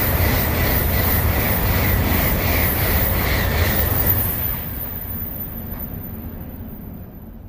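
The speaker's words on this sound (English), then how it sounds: "Japan Bullet Trains by the Sound Archivist is a collection of exterior recordings and interior ambiences of a variety of Japanese bullet trains, including passbys, arrivals, idles, departures," A Japanese bullet train rumbles past in a loud rushing passby, its roar and wheel noise holding strong before gradually receding into a softer, fading rumble.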